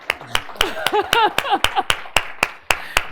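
Scattered hand clapping from a small online group, sharp individual claps in an uneven rhythm while a voice sings or hums in a sliding, wavering way over the first half.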